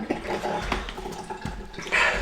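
Tap water splashing and running over a freshly harvested turmeric root as it gets a quick rinse in a kitchen garden, a steady close wash with small splashes, brightening toward the end.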